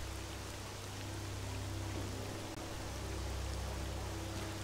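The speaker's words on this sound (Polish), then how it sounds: "Czemu ten deszcz pada, no?" Steady, dense rainfall in a video game pouring continuously, a broad hiss of drops with no voices, unchanging in intensity from start to finish.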